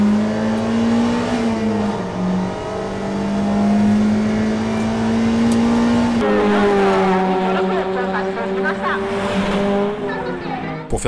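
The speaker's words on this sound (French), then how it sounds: "j'ai voulu passer près du mur et donner quelques coups d'accélérateur" A race car's engine drones steadily near a wall after the last corner of the final lap, with throttle blips shifting its pitch; the sound is loud, close and continuous for the whole stretch.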